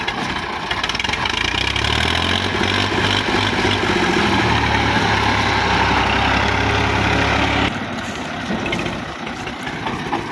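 A Massey 240 tractor with a Daska-made reaper at the wheat harvest, its engine running loud and steady with a deep throb, then dropping to a lower idle near the end.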